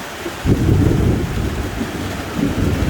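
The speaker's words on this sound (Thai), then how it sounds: "มีฟ้าร้องนะครับ มันน่ากลัวตรงที่ฟ้าร้องนี่แหละนะครับ มันตึมตึมตึมอยู่เนี่ย" Thunder rolls during a heavy storm, a deep loud rumble that swells after a moment and continues under steady rain, with no voices.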